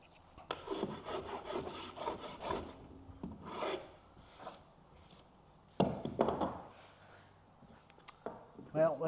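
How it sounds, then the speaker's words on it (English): A hand wood rasp files white oak pieces being shaped for a replacement boat keel, giving repeated rough rasping strokes in uneven bursts at close range, with pauses between passes. "I'm going to slowly go through the rest of these with my wood rasp and finish up this project"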